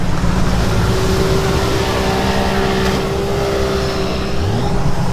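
A large speedboat idles back toward shore on the water, one exhaust blocked so the exhaust boot is melting; a steady, loud low engine drone with faint tonal hum runs continuously, mixed with wind and water noise.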